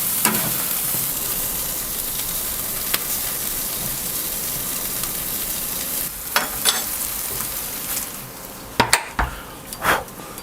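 Burgers sizzle on a Pit Boss K24 ceramic charcoal grill as a steady broadband crackle and hiss, with a few sharper pops and clatters near the end and no talking.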